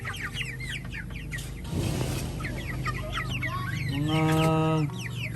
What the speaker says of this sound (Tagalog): ilang piraso pong kalalaki na yung mga sisiw ni Tatay Rod, no?